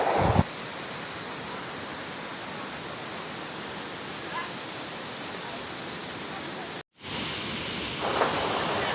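Kappimala waterfall pours steadily on a rainy day, a dense, even roar of falling water that fills the whole scene, close and constant, broken only by a brief cut near the end.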